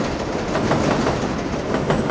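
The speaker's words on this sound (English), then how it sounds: "The 7 train winds over and through Queens like a main cable." New York's 7 subway train running on elevated track over Queens, a steady close rumble with rhythmic clickety-clack of wheels over rail joints and no voices.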